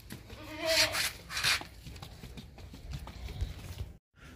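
A male goat bleats twice in short, loud calls close by at an animal market, followed by quieter rustling and shuffling noises of animals moving around.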